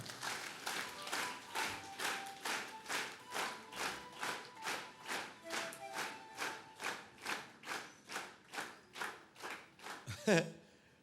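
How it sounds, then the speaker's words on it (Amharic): A church congregation claps together in a steady, even rhythm of loud, evenly spaced beats that lasts for many seconds, applauding a woman during a sermon. "አጨብጭቡላት"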